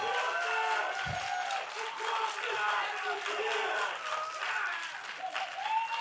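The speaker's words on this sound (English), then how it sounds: "They're supporting you. They're cheering for you now." Fans at a League of Legends NA LCS summer split esports match between CLG and FlyQuest cheer and clap in a steady, dense crowd roar filling the whole stretch, with commentary voices blended underneath.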